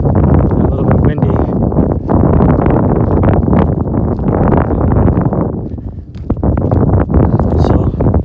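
Strong wind buffeting the microphone on a cloudy day at a lakeside jetty, a loud rumbling roar with gusty swells and brief dips.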